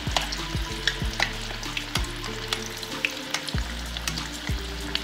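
Belizean panades, masa turnovers with a cooked filling, fry in hot oil with a loud, close, continuous crackle and sizzle dotted with rapid pops, with no talking.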